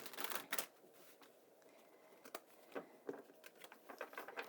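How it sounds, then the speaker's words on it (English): Tarot cards are shuffled by hand in quick, soft, papery riffles and pats. The sound comes up close and fairly quiet, in short irregular bursts. "So I'm going to shuffle the cards"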